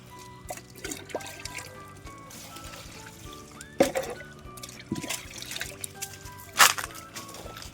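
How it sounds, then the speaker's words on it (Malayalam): Liquid fertilizer mix poured onto vegetable plants such as tomatoes, a soft trickling and dribbling of water with a few louder splashes, close and fairly quiet with no talk. "അപ്പോൾ ഇതിലേക്ക് നമ്മൾ ഒഴിച്ചു കൊടുക്കുന്നുണ്ട്."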